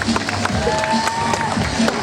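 A crowd at an outdoor tiger show claps and cheers, a sustained wash of applause with scattered voices mixed in at moderate loudness.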